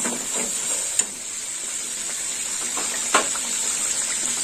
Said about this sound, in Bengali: এবার সর্ষে বাটাটা ছেঁকে দেবো। একটু নেড়ে ছেড়ে নেব।